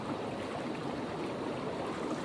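A large river flowing steadily, a broad continuous rush of water that stays even and fairly quiet throughout with no voices over it.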